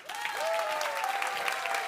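Audience applause at a bio-based economy event, a brief burst of clapping and cheering from a crowd, moderately loud, with voices calling out over it.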